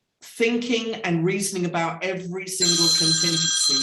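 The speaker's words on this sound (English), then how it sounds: "Oops, that's my phone." A mobile phone rings during an online discussion session, its bright repeating ringtone coming in partway through and continuing loudly over steady talk.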